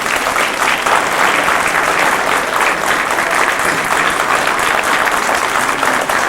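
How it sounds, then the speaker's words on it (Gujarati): Loud, sustained applause from a crowd at a 1997 devotees' gathering, many hands clapping in a thick continuous roar that holds steady without pause. "આપણે એમને તાળીઓના ગળાથી જેટલા વધાવીએ એટલા ઓછા છે"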